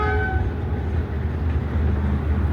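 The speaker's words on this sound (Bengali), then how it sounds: "এই দেখো একটা ট্রেন আসছে" A train crossing the Kolaghat bridge over the Rupnarayan river, heard as a steady, loud low rumble of wheels and cars throughout, with a brief horn tone at the start.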